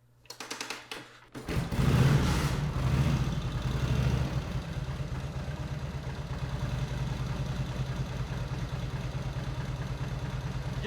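An old car engine cranks and catches, then settles into a steady, low, rhythmic idle that continues close by without talk.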